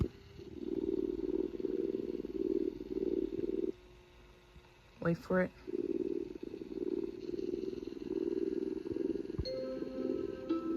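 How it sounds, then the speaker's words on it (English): A VTech Soothing Slumbers Sleepy Kitten toy plays a recorded cat purr with melodies, rumbling in steady pulses, pausing briefly while a short voice speaks, then resuming its looping purr. "It's melodies with cat purring."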